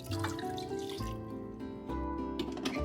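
Water poured into an Instant Pot holding chicken breast, onion, bay leaves and allspice, a splashing, trickling flow that surges, pauses briefly and resumes, close and moderately loud.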